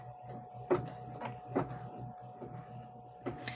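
A sewing machine stitching around a fabric patch, with a low steady motor hum and rhythmic mechanical clicks at a close, moderate level.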